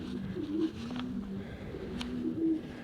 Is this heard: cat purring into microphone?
no